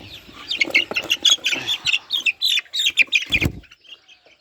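Sonali chickens on a farm cluck and chatter in quick, overlapping bursts close at hand, then fade to near quiet.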